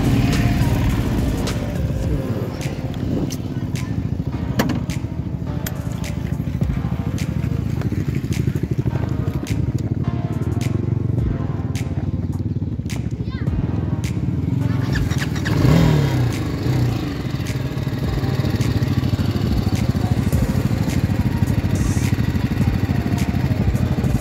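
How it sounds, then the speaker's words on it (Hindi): A BMW G310R motorcycle rumbles continuously while being ridden, its engine loud and close with shifting revs and some rough crackle throughout. "तो गाइस अभी मैं चलाने जा रहा हूँ इस बाइक को।"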